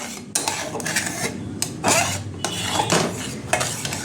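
Spoon scraping and clattering against a pan as sugar melts into caramel for an eggless plum cake, a steady run of metallic stirring strokes and scrapes, close and fairly loud, with no talking.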